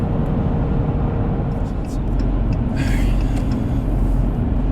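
A 2019 Dodge Challenger R/T Shaker with a six-speed manual gearbox accelerating, its engine giving a steady, loud low rumble that builds slightly, with a voice speaking over it.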